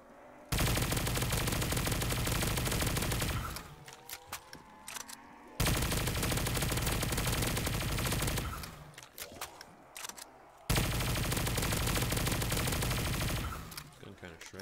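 Sustained automatic gunfire in the Black Ops 3 custom zombies map Bikini Bottom, loud and continuous in three long bursts separated by brief gaps of clicks and reload sounds.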